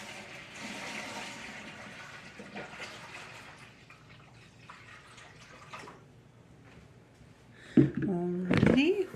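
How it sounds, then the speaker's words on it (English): Water from a pitcher poured into a canner for cherry tomatoes, a burst of gushing and splashing near the end after a stretch of quieter handling noises. "Second pitcher of water going in."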